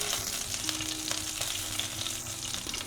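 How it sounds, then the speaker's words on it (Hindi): Green chilies and ginger juliennes sizzle in hot desi ghee, a close, continuous hiss and crackle with faint stirring scrapes, no talking. "जब हम स्लाइसेस को ऐसे घी में भून के डालते हैं"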